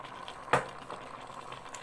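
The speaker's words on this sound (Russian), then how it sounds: "Видите, как там все бурлит, кипит" Faint, soft bubbling of potatoes, vegetables and canned stewed meat simmering in a multicooker, with one brief clunk partway through; no talking.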